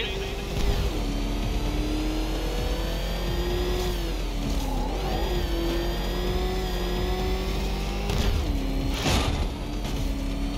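Car engine in Batman: Arkham Knight, a steady loud drone that surges and revs at several points, with a deep rumble underneath, while a voice talks over it.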